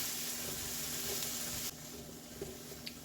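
Chicken drumsticks sizzle and fry steadily in a pot, a soft continuous hiss with faint scraping stirs, dropping slightly quieter partway through, with no talking.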